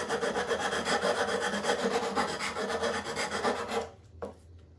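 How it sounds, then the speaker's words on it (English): Sandpaper rubbing rough bits off a handmade craft comet, a close, steady scratchy rasp in rhythmic strokes that stops abruptly near the end, followed by one small knock. "I'm gonna sand it."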